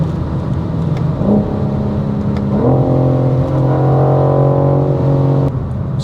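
BMW M4 LCI on the Autobahn, its engine droning loudly from inside the cabin with pitch climbing steadily as it accelerates, no talking.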